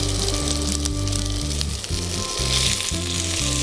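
Salmon kebab skewers sizzling in butter in a hot pan, a loud continuous close frying hiss over a pulsing low background hum, no voices.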